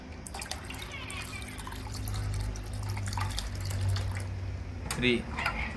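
Sweetened milk, boiled thick with cardamom and bay leaf, being poured into watermelon and papaya juice for a lassi, giving a steady liquid pour and trickle at close range with a few drips near the end.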